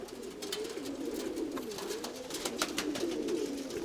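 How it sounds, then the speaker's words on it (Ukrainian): Pigeons coo softly and repeatedly in a low, warbling rhythm, fairly faint, with light background noise. "Голуби там."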